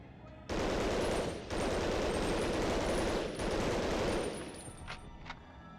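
Bursts of automatic gunfire from World War II weapons in Medal of Honor Underground, three long sustained volleys separated by brief gaps, fading to a few faint clicks at the end.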